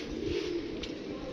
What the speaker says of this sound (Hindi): हुण तुहानू कबूतर कड्ढ के मैं देना